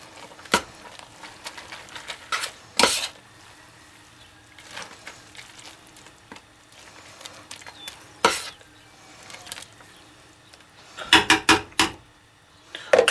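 Macaroni noodles being stirred in a pot for a creamy chipotle pasta, with scattered sharp clinks and scrapes of a utensil against the pot and a faint background hiss between them. Several bursts come close together near the end.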